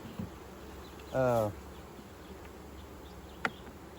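Honey bees buzz during the installation of a bee nuc: one brief, loud, close buzz passes for under half a second over a quiet outdoor background, with a faint tap near the end.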